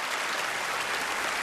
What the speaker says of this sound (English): The band members applaud.